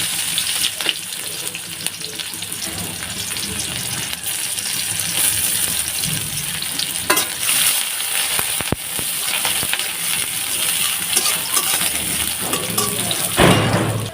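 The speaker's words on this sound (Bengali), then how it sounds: "অল্প পরিমাণ তেল দিয়ে দিছি, কড়াইটা গরম হয়ে গেছে। এখন আমি এইখানে দিয়ে দিব হচ্ছে পেঁয়াজ" Onions frying in a little hot oil in a heated kadai, giving a steady broadband sizzle and crackle that continues without a break, up close and fairly loud, with occasional stirring clatter.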